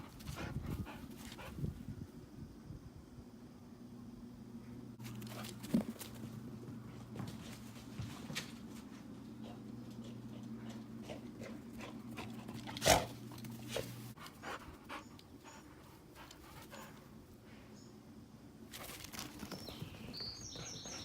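A dog reacts to a single tennis ball outdoors, with faint low whimpers and a few soft woofs over a steady low hum, plus scattered rustles and a sharp knock near the middle.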